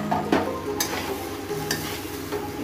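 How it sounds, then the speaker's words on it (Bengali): Fried potatoes being sautéed with spice paste and bay leaves in a pan, giving close, steady sizzling broken by a few sharp stirring scrapes. "দু মিনিট আলুর সাথে মশলাটাকে ভালো করে কষিয়ে নেব।"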